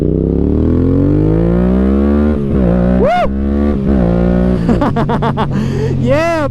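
Yamaha MT-07 motorcycle engine riding on city streets, loud and close, with a low rumbling idle building into rising revs, then sharp throttle blips and gear-change surges near the end.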